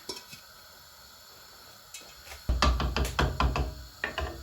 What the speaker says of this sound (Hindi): अब इसके अंदर मैं ये काले चने जो मैंने उबाले थे वो सारे डाल दूंगी।